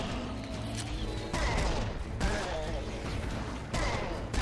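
Rapid bursts of gunfire in the first-person shooter Serious Sam: Siberian Mayhem, loud, close and repeated in sharp volleys over continuous game noise.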